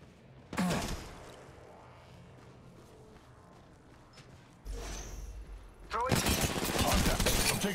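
Loud weapon fire in the battle royale game Apex Legends, a sharp shot early, then a sustained heavy burst near the end, with quieter game ambience between.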